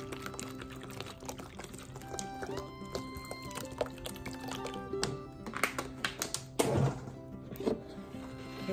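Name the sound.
water being poured in for making otai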